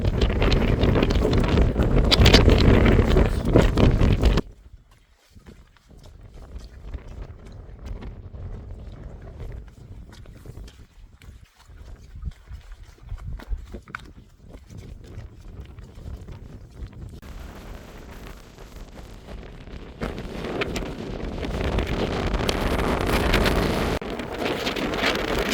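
Strong wind buffets the microphone in loud roaring gusts during stormy weather while wild camping, drops to a quieter rushing stretch, then builds again toward the end.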